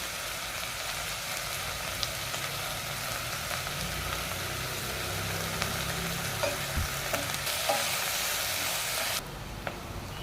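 Green chillies and curry leaves sizzle in hot tempering oil, a steady close frying hiss with small stirring ticks that drops off abruptly near the end.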